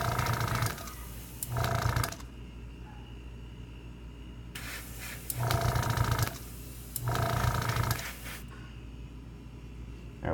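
Airbrush spraying Alclad metal finish paint onto a model, several bursts of steady hissing air lasting a second or two each, broken by quieter gaps, close by with no talking.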